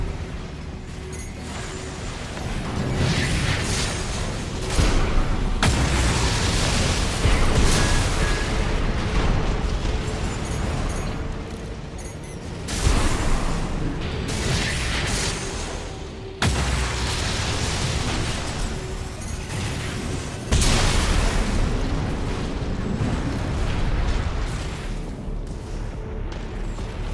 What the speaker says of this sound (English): Resulting overload will cause the reactor core to explode